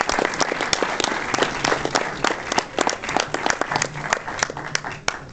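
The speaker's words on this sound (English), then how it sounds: "let's give them another round of applause" A small group at a film festival Q&A claps steadily, individual hand claps audible in a loose rhythm, with faint murmuring underneath.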